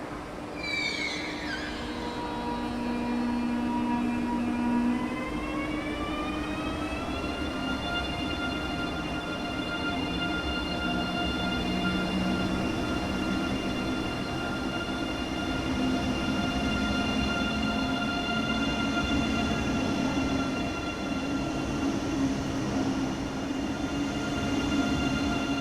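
An ICE 3 high-speed train in Train Sim World 3 running steadily, a rising electric motor whine that climbs, then holds as an even tone over a continuous rumble of wheels on rail.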